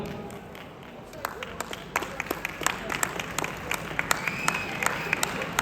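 Audience clapping at a Tamil New Year cultural night in Brunei, starting sparse and building into steady applause from a moderate-sized crowd indoors, individual claps standing out close by.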